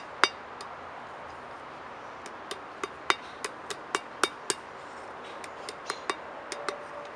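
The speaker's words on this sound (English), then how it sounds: "Get this hammer." Sharp metallic hammer blows ring out one at a time on hot metal while forging a leaf, about fifteen strikes at an irregular steady pace, fairly close, with no talking.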